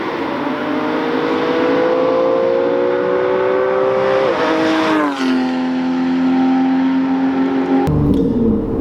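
TechArt Porsche 911 GTS with a valved baffled exhaust, engine droning steadily then shifting pitch through downshifts, ending in a sharp crack from the exhaust, loud and close with no talking.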